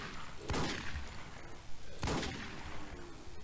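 Two loud, sharp gunshots from a Desert Eagle pistol in the zombie survival game Infestation The New Z, spaced about a second and a half apart, each with a short ringing tail over low in-game ambience.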